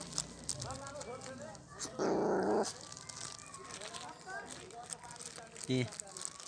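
Three puppies scuffle and growl while fighting over chicken meat, with short low growls and yelps scattered close by under steady talk and a brief loud rustle of a plastic bag.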